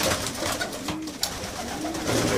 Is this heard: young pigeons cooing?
yes